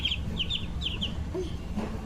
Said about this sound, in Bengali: হাঁসের বাচ্চা পেয়ে অনেক খুশি লামহা।